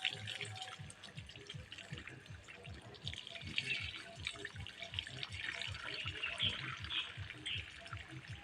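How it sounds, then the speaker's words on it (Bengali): Methi fish are rinsed by hand in a container of water, with repeated splashing and sloshing close by, irregular in rhythm and fairly quiet throughout. "মেথি মাছগুলো আমি জলে ভালো করে ধুয়ে নিচ্ছি"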